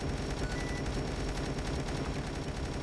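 Rapid automatic turret fire in the zombie defense game Dead Ahead: Zombie Warfare, a dense, continuous rattle of shots holding steady and loud throughout without pause.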